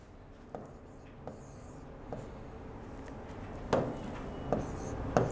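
A pencil in a compass sweeps a 6.5-centimetre-radius arc across paper for a geometry construction, giving soft, scratchy strokes that repeat at roughly even intervals, close but faint over a quiet room.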